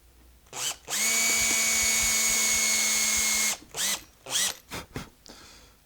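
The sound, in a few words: drilling holes in a guitar truss rod plug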